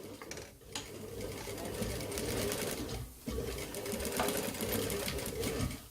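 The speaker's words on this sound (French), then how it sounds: "c'est là qu'on va piquer la trousse" Industrial sewing machine stitching a fabric pouch in a workshop, running in loud steady bursts with a brief pause near the middle, while a voice speaks faintly underneath.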